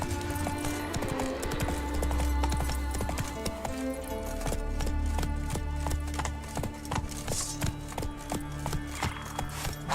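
Horse hooves clip-clop steadily in The Witcher 3, a continuous rhythmic trot of close, distinct hoofbeats over a layer of game music and ambience, with a faint whinny-like sound mixed in.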